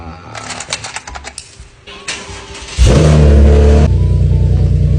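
A sports car's engine, used for a school pickup, revs up suddenly and loudly midway, a deep sustained roar that follows a stretch of clicking, rattling handling noises, and holds steady to the end.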